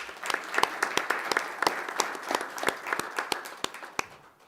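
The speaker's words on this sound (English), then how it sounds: "Round of applause, please, for Mr. Anderson." A round of applause at a township council business meeting: scattered, distinct claps from a modest group, fairly close, tapering off at the end.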